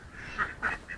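Ducks in a backyard pen give three short, nasal quacks, one after another, close by against quiet outdoor background noise.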